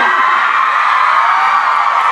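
A concert audience in Toronto shouts, whoops and cheers loudly and continuously, a dense wall of voices with no pauses, during a tour show.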